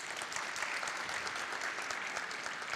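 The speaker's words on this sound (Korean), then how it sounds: "한 분 한 분 소개해드릴 때마다 큰 박수로 환영해 주시기 바랍니다" Audience applause fills a university entrance ceremony at Pusan National University as dignitaries are introduced, a steady, dense wash of clapping from a large crowd lasting the whole stretch with no pauses.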